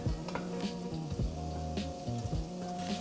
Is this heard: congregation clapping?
no